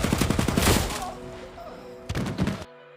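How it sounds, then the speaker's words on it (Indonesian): Bursts of gunfire from the 2022 action film Blackout: a rapid volley of loud shots opens, then fades, followed by another short burst near the end. "Diakhiri pula dengan tembakan brutal dari Anna."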